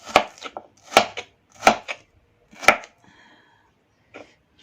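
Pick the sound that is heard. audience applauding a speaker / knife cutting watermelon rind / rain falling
knife cutting watermelon rind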